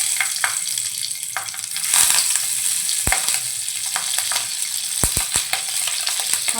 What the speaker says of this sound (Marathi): तेल पहा, छान गरम झालंय। त्यामध्ये आता भरलेली मिरची सोडून घेऊया।